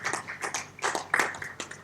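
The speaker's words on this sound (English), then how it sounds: "Round of applause, please" An audience at a conference session claps for a panelist. The clapping is scattered and moderately loud, with uneven bursts of hand claps for about two seconds.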